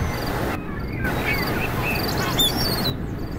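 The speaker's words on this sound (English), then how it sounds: "Ooh, the birds and the nature." Birds chirp in the outdoor scenery of the video game Convoy, bright short calls and trills scattered over a steady ambient wash, fairly close and alone.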